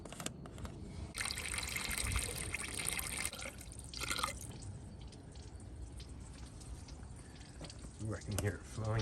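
Coolant trickling and dribbling from a blown heater hose on a Chrysler PT Cruiser, a faint steady liquid flow under nearby talk, with a couple of louder bursts of movement partway through.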